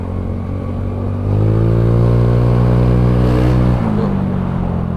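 A Honda Beat carburetor scooter with an upgraded CVT and Daytona parts revs hard and close, its engine note jumping up and holding a steady high-RPM drone for a few seconds before easing slightly.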